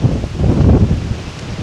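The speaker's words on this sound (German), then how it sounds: "Muss ein bisschen lauter sprechen, weil hier oben ist nämlich richtig guter Wind." Strong wind on a hilltop along a hiking trail buffets the microphone in a steady, loud roar that swells and eases over a moment.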